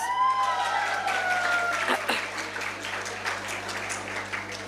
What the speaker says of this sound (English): let us all appreciate their efforts by giving our teachers and the whole school team a huge round of applause